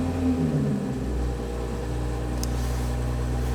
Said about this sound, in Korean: 시동 켜고요.